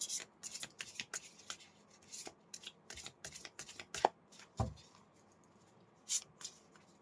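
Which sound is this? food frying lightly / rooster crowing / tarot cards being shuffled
tarot cards being shuffled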